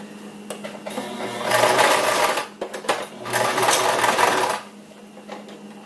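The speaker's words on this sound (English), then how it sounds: "It's really thick, so you might have to help it through the machine." Sewing machine running a straight stitch through thick pleated fabric for a face mask, with short bursts then two long sustained whirring runs, close and loud, separated by brief pauses.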